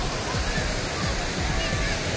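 A man-made waterfall in Paksong, Laos, built over a natural one, gives off a steady, close rush of falling water with a low churning rumble, unbroken from start to finish.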